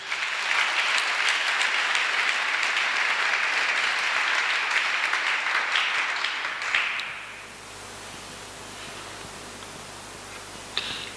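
Congregation applauding during a church service, a dense, steady wash of clapping for about seven seconds that then drops away to quiet room tone, with one faint clap near the end.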